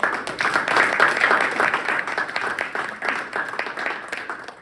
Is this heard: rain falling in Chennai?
no